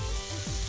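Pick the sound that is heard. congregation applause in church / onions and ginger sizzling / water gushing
onions and ginger sizzling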